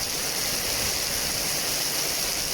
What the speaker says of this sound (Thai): เมื่อกี้ยังเทสกลางแดดดีๆอยู่นะฮะฝนมานี่เก็บไม่ทัน